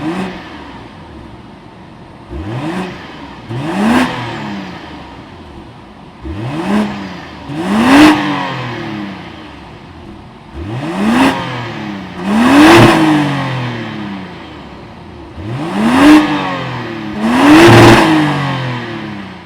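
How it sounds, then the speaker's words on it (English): A 2026 BMW X7 xDrive40i with a 3-liter turbocharged inline six-cylinder B58 mild-hybrid engine is revved loudly and close up, rising and falling about six times in paired climbs with brief settles between. "that was the sound of the 3-liter turbocharged inline 6-cylinder mild hybrid"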